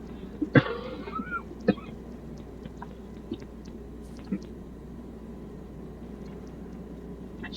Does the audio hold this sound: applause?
no